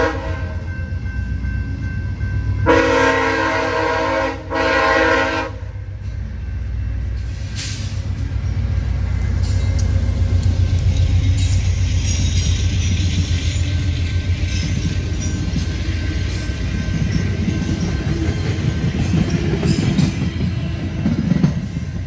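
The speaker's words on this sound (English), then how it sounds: "Via 45 departs for Toronto after a brief station stop." A VIA Rail passenger train bound for Toronto sounds a loud horn blast, then rumbles and clatters steadily as it pulls out of the station at Brockville, with no voices.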